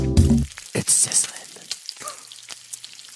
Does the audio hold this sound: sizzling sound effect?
yes